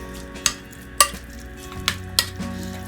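A spoon clacks against a bowl in four distinct taps while guacamole ingredients, including red onion, are mixed, close and moderately loud with no talking.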